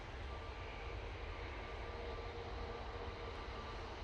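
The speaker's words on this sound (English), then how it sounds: "And we've got our first heavy departure." A TUI Boeing Dreamliner makes a heavy departure from Manchester Airport, heard as a steady, distant broadband engine roar with a low rumble that holds evenly throughout, with no talking.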